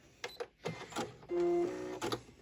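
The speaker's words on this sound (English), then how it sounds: "back stitch, and then sew off the end" A sewing machine stitches a cosmetic pouch in a short steady whir, preceded and followed by brief clicks and handling noises at close range.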